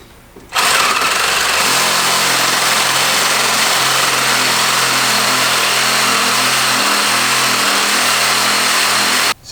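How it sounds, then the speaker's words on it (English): A Sawzall reciprocating saw cuts through the metal shell of a BMW E36 rear differential bushing, a loud, close, buzzing rasp that starts abruptly, holds steady for several seconds, then stops sharply. "I just took the Sawzall and I cut through the shell of this bushing"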